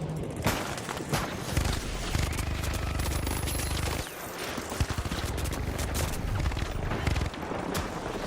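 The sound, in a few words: gunfire from a mini gun in a video game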